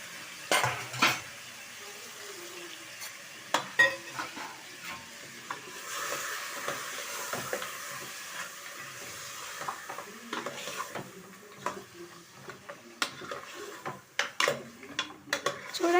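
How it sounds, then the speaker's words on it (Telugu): Mutton for a Telangana-style curry fries in a pan and is stirred with a metal utensil, giving a soft sizzle under scattered clinks and scrapes against the pan throughout. "ఇప్పుడు మనం ముందుగా కడిగి పెట్టుకున్న మటన్ని ఇందులో వేస్తాను."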